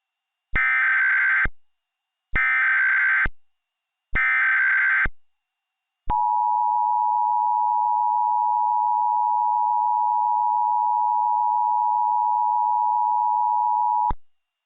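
An Emergency Alert System attention signal: three short, loud electronic data bursts, then a long, steady, piercing alert tone that holds for about eight seconds, clean and with no other sound behind it.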